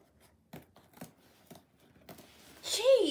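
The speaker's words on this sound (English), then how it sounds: "Just cut the tape." Packing tape on a delivered box sliced with scissors: a few short, soft snips, then a louder ripping tear near the end, close up.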